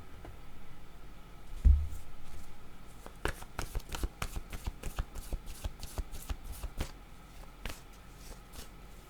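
Tarot cards are shuffled close up, a run of quick crisp riffling taps and soft slaps in an irregular rhythm, fairly quiet, following a single louder thump, with no talking.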